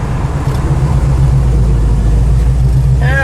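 A Pontiac car with an upgraded brake booster and master cylinder is driven on a brake test, its engine and road noise a loud, steady drone heard from inside. A brief high squeal rises near the end.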